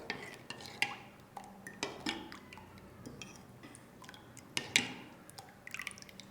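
Guava pulp is mixed with salt and chili powder. A spoon makes light, close clicks and taps against the bowl, with a few wet, dripping stirs at an uneven pace, all quiet and without talk.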